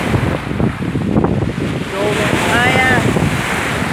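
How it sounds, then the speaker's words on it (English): Lake Ontario waves surge and wash onto the shore in a loud, continuous roar, buffeted by heavy wind rumble against the microphone, with a faint whistling tone briefly rising midway. "These waves are awesome."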